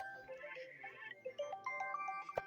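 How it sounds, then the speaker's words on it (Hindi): A mobile phone ringtone rings at a tape-ball cricket match of the Rakhala Super League in Hazara, a bright melodic electronic tune sounding through the clip with faint background murmur. "यार ये कॉल किसी की आ रही है?"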